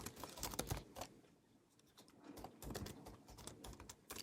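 Rapid typing on a computer keyboard comes in uneven bursts of soft, close clicks, with a brief lull in the middle and no talking.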